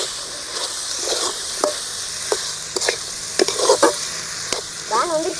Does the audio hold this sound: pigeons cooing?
no